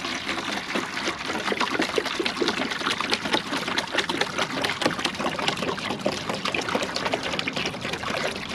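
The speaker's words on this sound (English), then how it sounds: "put in 1 gallon of water" One gallon of water pours into a mix in a container, a continuous splashing, trickling rush, steady and close, with no voices.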